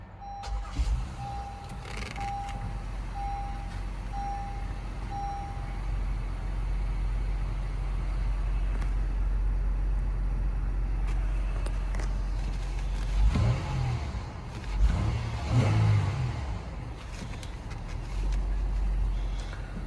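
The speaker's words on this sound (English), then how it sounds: "press the dash mounted button to start the engine" A 2019 Honda Pilot EX SUV engine starts and idles with a steady low rumble; a brief chime beeps repeatedly early on, and the engine revs up briefly later.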